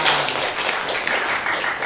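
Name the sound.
class clapping hands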